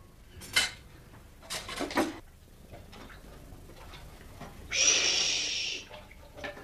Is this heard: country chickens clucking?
no